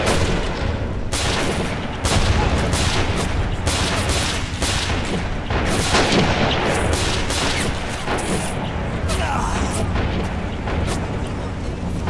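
A grenade explodes amid rapid gunfire in the WWII strategy game Men of War: Stalingrad, with dense volleys of shots and booms hitting in quick bursts, loud and continuous for the whole stretch.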